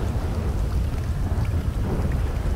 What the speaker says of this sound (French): J'entends l'eau couler,